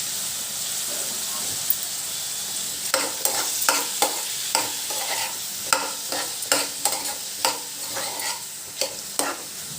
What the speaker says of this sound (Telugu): చేసుకుని బీరకాయ ముక్కలు కూడా వేయించుకోవాలి